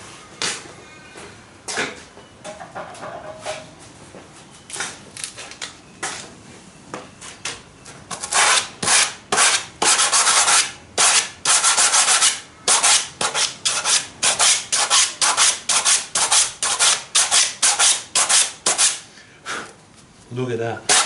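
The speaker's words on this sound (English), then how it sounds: "just need a bit of a sandpaper" Sandpaper scraping a pallet jack part by hand, slow at first then a run of quick, loud, rhythmic back-and-forth rasping strokes up close.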